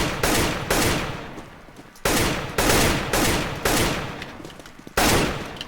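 Gunshots ring out on the Aim Botz training map, five or six sharp, loud reports spaced irregularly about a second apart, each followed by a decaying echo.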